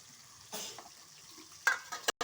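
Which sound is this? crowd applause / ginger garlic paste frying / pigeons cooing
ginger garlic paste frying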